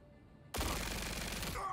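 Star-Lord's blasters firing in the Marvel Rivals video game, a sudden loud continuous stream of rapid shots starting after a quiet half second and running steadily to the end, with no talking over it.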